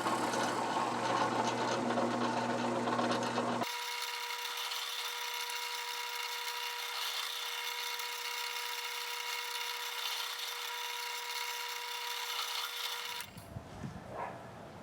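A drill bores a hole in wood with a steady whine, switching pitch partway through and continuing at a constant hum before it stops, close and fairly quiet.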